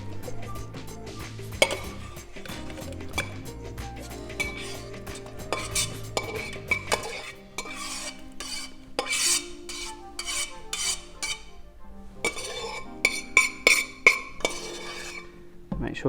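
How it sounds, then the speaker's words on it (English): A metal utensil scrapes a cauliflower mixture from a pan into a blender, giving repeated rasping scrapes and clinks of metal on metal, close and busy, with no talking. "scrape off any excess from the pan"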